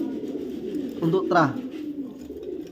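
Pigeons or doves in cages giving a low murmuring coo beneath steady background noise, with people talking nearby.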